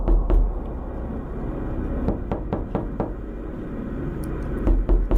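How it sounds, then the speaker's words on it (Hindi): Someone knocks on a door at night, giving a few sharp knocks spread unevenly over a rumbling, eerie background, with a heavier thud near the start and another at the end. "तभी अचानक रात को दरवाजे पर नॉक हुआ।"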